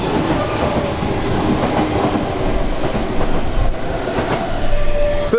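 A Hamburg S-Bahn train rolls into a station with a loud, steady rumble and rhythmic clatter of wheels on rails, ending in a brief metallic wheel squeal.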